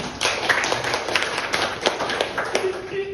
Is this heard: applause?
yes